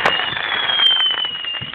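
Fireworks going off nearby, a loud sustained whistling hiss with crackling that opens on a sharp burst and carries on without a break, no voices.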